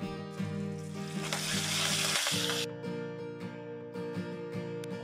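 Cumin, hing and green chilli sizzle loudly in hot ghee with dal, a steady crackling hiss that swells, then eases back, over a low hum.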